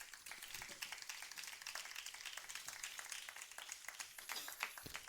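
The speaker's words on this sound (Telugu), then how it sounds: "యేసయ్యకి ఒకసారి చప్పట్లు కొట్టండి" A congregation at a youth gospel meeting claps for Jesus, rapid scattered hand claps forming steady, fairly faint applause that continues throughout.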